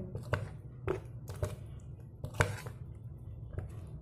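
Chopped prawns being stirred into vegetables: soft, wet squishing and scraping strokes at an uneven pace, close and fairly quiet, with nobody talking.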